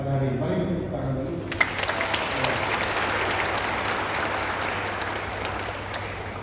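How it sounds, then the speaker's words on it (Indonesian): A church congregation at an anniversary Mass applauds the bishop, broad sustained clapping that fills the room and rises just after a voice stops, then continues steadily. "Mari kita tepuk tangan dulu."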